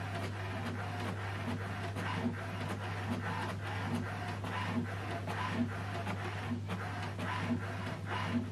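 An HP DeskJet 4120e inkjet printer runs a colour copy, with a steady low motor hum under a rapid, regular ticking of the print head shuttling back and forth.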